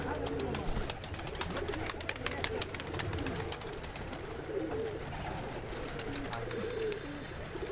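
Pigeons of several breeds, including a Murshidabad pigeon, coo repeatedly in soft rhythmic rolling phrases throughout, with fluttering and clicking noise around them and a person talking at times.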